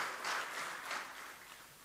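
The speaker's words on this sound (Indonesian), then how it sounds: "Tepuk tangan untuk Presiden kita Bapak Joko Widodo." An audience applauds the president at an official gathering, a dense, steady wash of distant clapping that fades slightly toward the end, with no voices over it.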